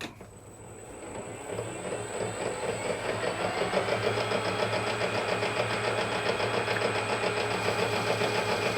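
An EQ8 telescope mount's motor slowed to gearbox speed 4 gives a steady mechanical whir and hum that builds slightly in the first second, then runs evenly and close up with no talking.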